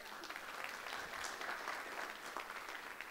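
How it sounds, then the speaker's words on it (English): A church congregation claps together, a steady dense wash of hand claps sustained evenly from start to finish. "Amen, you can clap for that."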